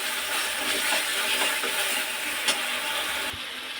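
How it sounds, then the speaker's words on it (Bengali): Boiled cabbage, potato, beetroot and carrot go into a pan of fried spices, giving a steady close sizzle and frying hiss with light stirring clatter, fairly quiet and without talk. "এবার সেদ্ধ করা বাঁধাকপি আর সবজিগুলো একসাথে সব দিয়ে দিচ্ছে এখন।"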